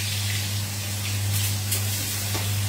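A steady hiss of hot oil in a pan as cumin seeds go in, sizzling quietly and evenly with a low hum underneath, no talking.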